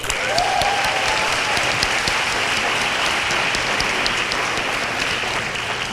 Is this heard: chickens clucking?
no